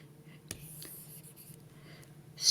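A pen scratches faintly on paper during a chemistry stoichiometry lesson, with soft, brief strokes under quiet, whispery speech.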